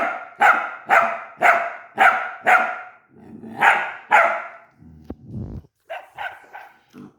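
A dog barks in a rapid run of five sharp barks, then two more after a short pause, followed by a thump and a few quieter yips. The barking is loud, close and agitated.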